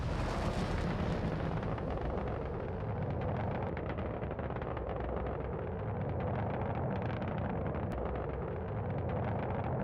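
S9 torpedo launched in a naval combat video game: a loud, continuous rumbling whoosh with broadband roar that holds steady for about ten seconds, no voices over it.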